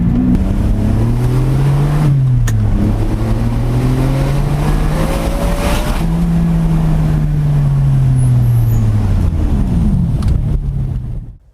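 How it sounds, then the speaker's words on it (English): A V12 car engine revs continuously, its pitch rising and falling in long sweeps, loud and close, with wind buffeting the microphone. "this V12 makes some great noises"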